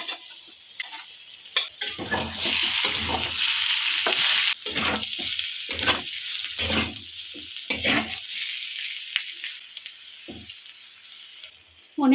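Bottle gourd peel frying in a pan with prawns and slit green chillies, a steady loud sizzle broken by repeated stirring scrapes and clinks throughout, fading softer near the end.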